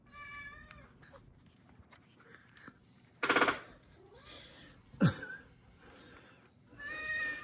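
A cat meows several times in a room with vintage NeXT computer gear, the cries scattered among a couple of sharp clunks and handling noises.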